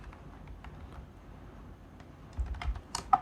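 Someone types a pip command on a computer keyboard while setting up a Python screenshot project. Quiet, close keystrokes tap irregularly, then a quicker, louder burst of keys comes near the end.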